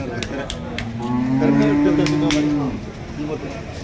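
An Andhra buffalo at a cattle market lets out one long, deep moo that swells and then fades, against a low murmur of market background noise.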